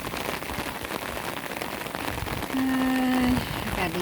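Continuous rain falls in a dense, even hiss, with a brief tonal whine rising near the end over the downpour.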